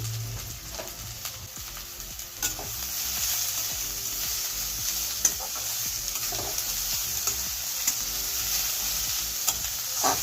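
Carrot, cabbage and onion lightly fried in a pan, a steady close sizzle under repeated spatula stirring and occasional clinks, even and continuous throughout with no talking.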